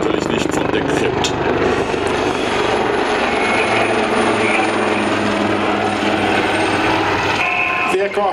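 Two AgustaWestland Wildcat HMA2 helicopters in a flying display at ILA Berlin, a loud sustained rotor and turbine roar over the airfield, with a commentator talking throughout.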